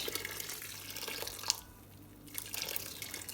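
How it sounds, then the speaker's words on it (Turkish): Hot water pours from a kettle onto dried okra in a pot, a soft, quiet splashing trickle that briefly thins out before resuming. "sıcak suyumu koyacağım kettle'ımdan. Bu şekilde üzerini basacak kadar sıcak su kullanacağım."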